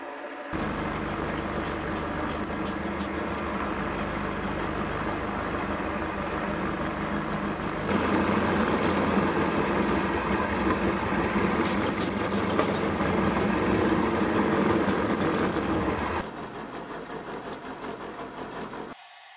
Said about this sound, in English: I can go ahead and swap out the top and cut the inverse of the dovetail on the bottom piece